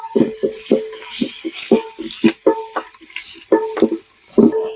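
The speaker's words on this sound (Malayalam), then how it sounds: "ഇതിന് നല്ലോണം ഇളക്കണം." A spoon stirs onion, garlic and ginger frying in a pan for traditional village-style corn upma, making repeated loud clanks and scrapes against the metal in an irregular rhythm over a steady background sizzle.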